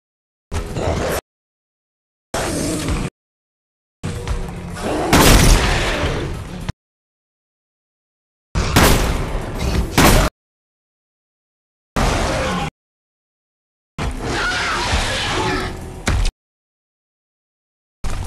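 Loud, sharp gunshots in Resident Evil 6 in separated bursts, some dense and crackling, with silent gaps between them.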